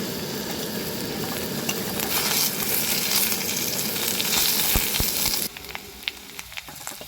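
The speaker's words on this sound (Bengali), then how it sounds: "আলুগুলো কিন্তু ভাজা ভাজা হয়ে গেছে, এবার এর মধ্যে আমি পেঁয়াজগুলো দিয়ে দিই।" Onions go into a pan of frying potatoes, producing a loud, crackling sizzle with stirring scrapes that drops abruptly to a quieter hiss with scattered pops for the last couple of seconds.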